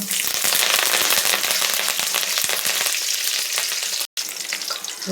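Garlic, dried chillies, curry leaves, mustard seeds and cumin fry in hot oil for a North Karnataka puffed-rice snack, with loud continuous sizzling and crackling popping close up throughout and no voices.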